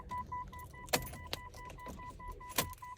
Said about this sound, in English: Let's take up out our keys.